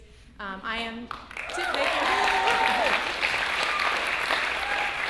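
A public talk by a social innovation director: a voice speaks briefly, then audience applause swells into full, sustained clapping that carries on steadily to the end.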